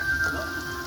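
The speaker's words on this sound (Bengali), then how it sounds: "উল্টা পাল্টা ভেজে নিতে হবে" Palm fritters (tal bora) sizzle and crackle steadily in hot frying oil, a dense close bubbling hiss with no voices.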